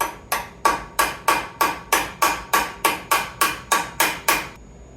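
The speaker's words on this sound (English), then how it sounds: "So you hammer that thing in there." Fourteen sharp metal hammer blows drive a Torx bit into a bolt on a Harley-Davidson Dyna, striking at a steady, even pace, close and loud, each ringing briefly before the next.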